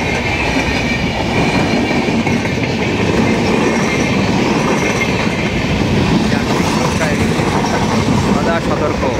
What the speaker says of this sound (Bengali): বেরিয়ে গেল কাঞ্চনকন্যা এক্সপ্রেস